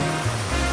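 Steady rushing water from a waterfall in the video game Super Mario 3D World, a continuous broadband roar with no pauses and no talking.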